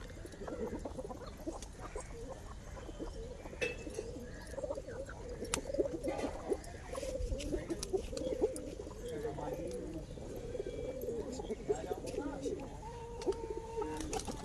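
A flock of domestic racing pigeons at a Nagpur loft keeps up a steady, overlapping low cooing throughout, close and continuous, with scattered clicks and rustles of birds moving around them.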